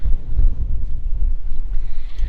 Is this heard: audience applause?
no